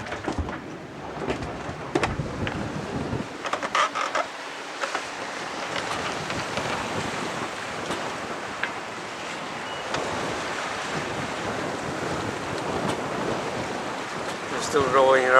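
Wind-against-tide sea waves wash and surge steadily around a Jeanneau sailing yacht underway off the coast of Wales and Scotland, with continuous broadband rushing water and wind buffeting the microphone throughout.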